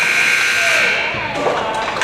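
An end-of-period buzzer sounds at an ice hockey game in a rink, a loud steady electronic drone held for about a second and then cut off, with crowd and announcer noise underneath.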